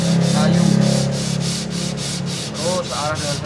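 Sandpaper rubs along the grain of an acoustic guitar's wooden body in steady, loud back-and-forth strokes, close up and without talk.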